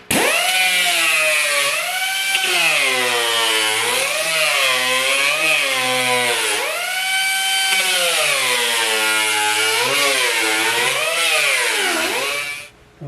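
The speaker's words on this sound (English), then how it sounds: "I find the easiest way to trim it is just using an air sander" Air-powered sander whining steadily while trimming a glass template for a 1938 Pontiac, its pitch rising and dipping as the load changes, loud and close for about twelve seconds before cutting off.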